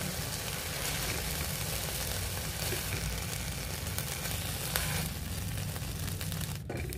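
Chicken pieces fry in a pan, browning on one side, with a steady, dense sizzle and crackle that holds loud and close throughout, dipping briefly near the end.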